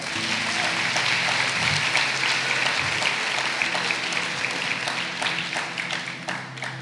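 A church congregation applauds together in a big room, a dense, loud, steady wash of clapping that keeps going for several seconds and then slowly tapers off.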